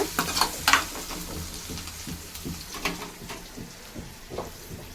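Carrots frying in a pan at home, giving a steady moderate sizzle with a few sharp clinks early and soft intermittent scrapes of stirring.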